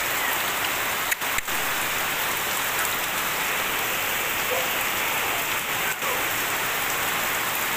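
Heavy rain drums on a village tin roof, a continuous, loud wash of patter with a couple of brief dips, steady from start to finish and free of talk.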